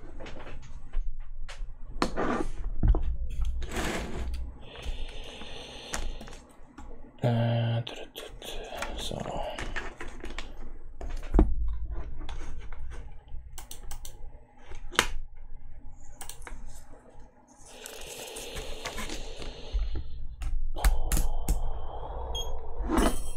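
Typing on a Kinesis Advantage 1 keyboard retrofitted with Cherry ML switches: scattered sharp key clicks and clacks, near and crisp, in irregular bursts over a steady background hum, with no speech.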